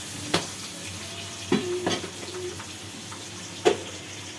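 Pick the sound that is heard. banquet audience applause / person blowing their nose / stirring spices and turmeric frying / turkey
stirring spices and turmeric frying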